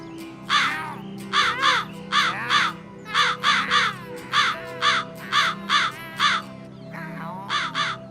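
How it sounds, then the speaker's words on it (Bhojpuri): A cartoon crow cawing in a tuneless, harsh voice, a dozen or so rhythmic caws in short bursts, loud and close over a low background drone. "कौवा अपन पैर से रोटी दबा के बेसुरी आवाज में गावे लागल"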